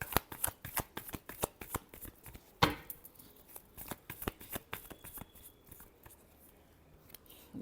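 Tarot cards are shuffled up close in a steady run of quick, papery riffles and taps that thin out toward the end, with no talking over them.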